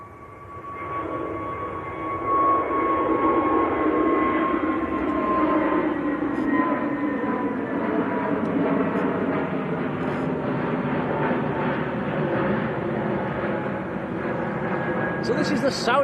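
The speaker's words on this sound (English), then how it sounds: "Okay, I'll let this Easyjet go in a minute." An EasyJet airliner takes off at Manchester Airport, its jet engines building from a rising whine into a loud, sustained roar with a high tonal note that slowly shifts pitch, heard at a distance with a voice speaking briefly over it.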